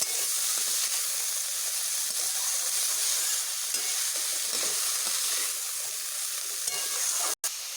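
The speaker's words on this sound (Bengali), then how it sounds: "জিরেগুলোকে এইভাবে একটু মিশিয়ে নেব কালো জিরে এবং লঙ্কাগুলোর সঙ্গে" Cumin, black cumin and chillies fry in a hot pan while being stirred, a steady loud sizzle and hiss with faint scraping, heard alone and broken by one brief sharp gap near the end.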